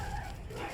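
Dogs in the video game Lies of P give a short burst of yipping, whining barks, close and moderately loud, lasting under a second.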